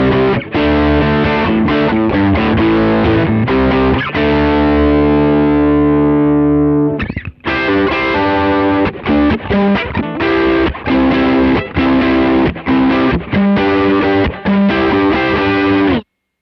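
Electric guitar played through an original Line 6 POD with the drive fully up gives loud, heavily distorted sustained chords and riffs, broken by a brief silent gap midway before the crunchy playing resumes, with no voices.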